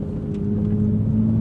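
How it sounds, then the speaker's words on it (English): A Toyota Supra engine awaiting a turbo runs with a loud, steady low drone, its deep tone holding nearly constant through a brief moment. "Oh my God, this car sounds so good, you guys."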